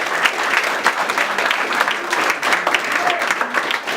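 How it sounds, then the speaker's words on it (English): Loud, close audience applause rolls on steadily for a speaker, dense clapping with a few cheers and murmured voices mixed in throughout. "So clap it up for him"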